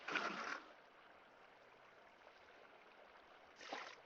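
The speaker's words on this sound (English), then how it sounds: "So if we put a water source right there, it will flow right to the edge." Water flowing from a source block placed in Minecraft, spreading along a three-wide channel to its edge: a soft, rushing wash that swells at the start and again near the end, with a faint steady trickle between and no voices.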